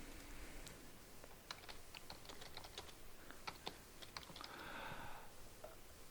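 Typing on a computer keyboard while entering data into form fields: faint, scattered key clicks in an uneven rhythm over a steady background hiss, quiet and close, with no voice heard.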